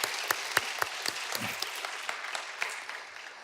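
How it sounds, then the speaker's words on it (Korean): A church congregation claps for the choir, a dense sustained applause with sharp individual claps standing out, moderately loud and fading slightly toward the end, with no talk over it. "우리 성가대 격려하고 하나님께 영광을 돌리는 박수 한번"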